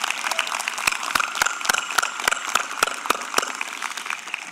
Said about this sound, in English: I would ask everybody please a round of applause for the students